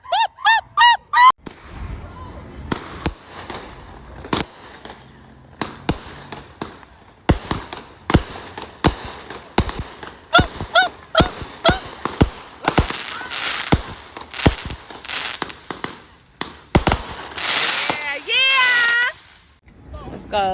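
Fourth of July fireworks and firecrackers burst in a long run of sharp, loud cracks and bangs, some spaced out and others in rapid clusters, with people shouting and cheering between the blasts.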